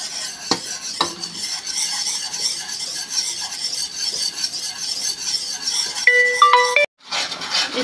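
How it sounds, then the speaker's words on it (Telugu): Gram flour batter being stirred smooth for Mysore pak, a close, continuous scraping and swishing of a spoon against the vessel, with a few clinks and a brief pause near the end. "పిండి వేసుకొని ఉండలు లేకుండా కలుపుకోవాలి"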